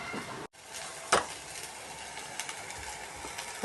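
Onion sizzles and fries in a pan with a coconut, coriander, ginger and garlic paste, a steady soft crackle with a brief stir-clatter near the start and no talk.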